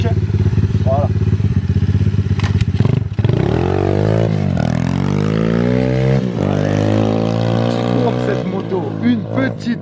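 A repaired motocross motorcycle on a test ride, its engine loud and close, idling with a throbbing note then revving and winding up through rising pitches, with people talking over it.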